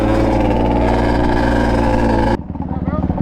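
A Yamaha Banshee two-stroke quad engine runs loud and close with a steady buzzing drone, then cuts to a rougher, pulsing idle near the end. People talk over it.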